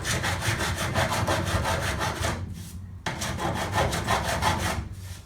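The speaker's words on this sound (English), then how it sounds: "So what I do now is come along with a file" A hand file scrapes back and forth across the metal bulkhead of a Land Rover Defender 90, filing it flat in steady, rhythmic rasping strokes, close and loud, with a brief pause between passes and no talking.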